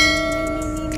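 A short chiming bell tone rings out as a notification sound effect, bright sustained tones with a few quick higher pings over about one second.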